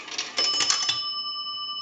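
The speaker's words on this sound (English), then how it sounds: "We want to use a nickel. That'll ring the bell once." A single bright bell strike from an Automatic Electric three-slot payphone as a nickel drops, ringing out sharply and then sustaining a clear, slowly fading tone with no talk.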